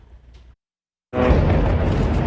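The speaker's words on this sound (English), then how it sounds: "A deadly explosion rocking a Gaza neighborhood not far from homes where children are playing." A deadly explosion in a Gaza neighborhood near homes, heard as a loud, sustained roar that bursts in abruptly after a brief silence and stays heavy and rumbling to the end.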